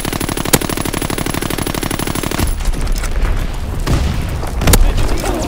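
In Call of Duty WWII, rapid machine-gun fire rattles loudly in a fast, even stream, then breaks off into booming bomb explosions and scattered shots, with heavy rumbling blasts near the end.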